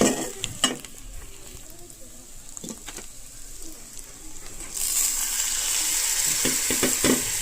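Turmeric and spices frying in a pan: a steady sizzle with intermittent scraping stirs, growing louder and brighter toward the end.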